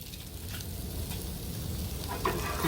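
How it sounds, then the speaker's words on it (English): Butter melting in a camping pot on an island campsite, hissing and sizzling steadily with faint crackles throughout, close and continuous, brief spatters near the end. "I'm gonna melt some butter."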